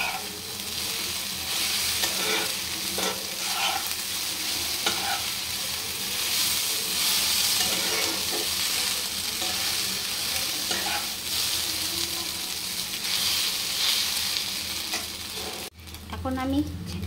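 Stir-frying in a pan after tomato sauce goes in, a loud, continuous sizzle close by with repeated scraping strokes of a spatula, then a brief clatter near the end; no talking.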